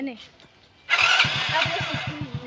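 A motorcycle ridden by a first-time family rider starts up abruptly and runs with a steady, loud engine drone and rhythmic low throbbing, close by, after some brief talk at the start.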